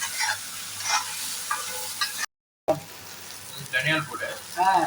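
Amaranth leaves and liver are stir-fried in oil with garam masala, giving faint, intermittent sizzling and scraping with a brief silent break; a voice seems to talk quietly over part of it.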